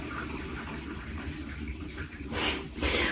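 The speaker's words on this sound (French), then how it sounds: "il y a la chasse d'eau des voisins. Donc là, ça doit être les voisins du dessus." An upstairs neighbours' toilet flushes through the ceiling, a muffled rush of water that swells near the end in two short bursts over a steady low background hum.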